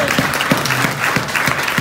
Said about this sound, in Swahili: Patia Bwana makofi kama unaamini.